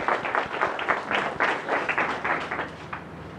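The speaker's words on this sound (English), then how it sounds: "Round of applause for everybody." An audience at a business talk at IIM Ranchi breaks into applause, a dense run of many hands clapping at an even, lively level that holds throughout without fading.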